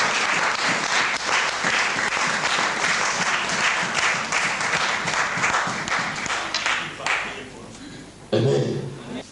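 A church congregation at a prayer summit in Mainz applauds loudly for a pastor, dense steady clapping filling the room for several seconds before tapering and briefly swelling again near the end.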